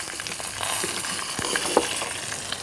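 Vinegar caramel cooking gently in a pan for a duck à l'orange, with a steady close sizzle and frying hiss, a few light stirring clinks, and no talk.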